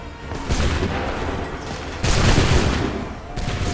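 Musket volleys crash out in Assassin's Creed III, a dense fusillade of overlapping gunshots rolling across a battlefield, with a second heavier volley erupting midway and another near the end, loud and sustained.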